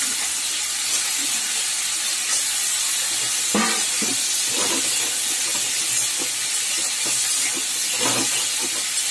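Vegetable stalks sizzle in a hot pan, a continuous hissing fry with a few louder crackling bursts as they cook.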